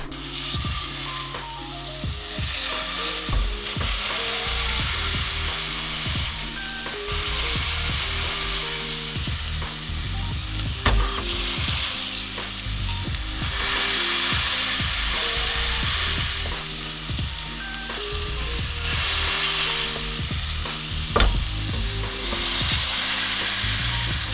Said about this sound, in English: We're going to put the patties in on the highest temperature, get a nice crust, flip it